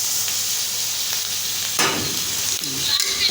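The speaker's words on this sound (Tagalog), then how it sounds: "Tapos, ilagay ko yung gata, no? Ginisa ko na lagi." Pork sautéing in a pan after coconut milk is added for a bagoong dish, a steady close sizzle with a brief louder burst of bubbling partway through, no voices.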